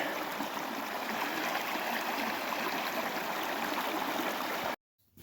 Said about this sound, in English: got all my jugs of water, well, all my jugs to fill with water.